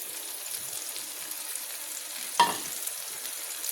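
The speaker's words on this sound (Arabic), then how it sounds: "هننزل بقى دلوقتي بالملوخية الناشفة بتاعتنا الجميلة" Dried molokhia hitting hot oil with onion in a pan, a low steady sizzle that flares into one sharp burst of frying as the leaves go in, then settles back to a soft crackle.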